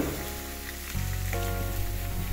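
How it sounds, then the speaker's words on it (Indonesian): An egg fries in a pan on a student dorm stove, giving a loud, continuous close-up sizzle and crackle with a low steady hum underneath and no voices. "Kita sudah masak lagi nih, kita bikin telur goreng"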